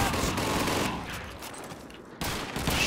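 Dense automatic gunfire in the World War II shooter Call of Duty 2 rattles in a sustained burst, thins out briefly, then snaps back in hard near the end. It is loud and close, with no talking.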